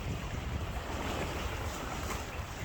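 Ocean waves meet a tourist boat out at sea, heard as a steady broadband wash of surf and rushing water blended with buffeting wind noise on the microphone, with no voices.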